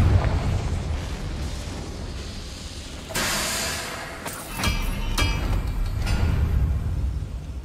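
Booming blasts from the Confringo fire spell in Hogwarts Legacy burst out over a low rumbling background, with a sharp explosion followed by two more cracking hits a moment later.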